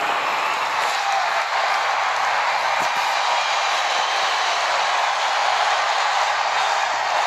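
Arena crowd roar from a WWE wrestling video game, a dense, even wall of distant audience noise with no clear claps or voices standing out, steady throughout.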